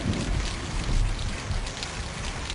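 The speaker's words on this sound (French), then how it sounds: "Il pleut des cordes." Steady, dense rain pours down without pause, a loud wash of drops drumming on surfaces with a low rumble underneath.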